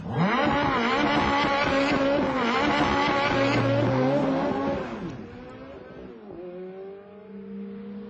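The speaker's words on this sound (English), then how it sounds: "Push this button and a bunch of sophisticated electronics gives you a red-hot start." Ferrari F430 sports car doing a launch control start, its engine revving hard and rising through the gears for about five seconds, then easing off to a lower, steadier drone; loud and close, no talk.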